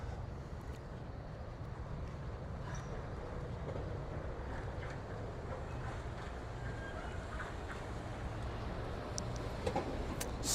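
A Walt Disney World Magic Kingdom monorail passing nearby during the Christmas season, heard as a continuous low mechanical rumble and whir that holds steady and swells slightly near the end.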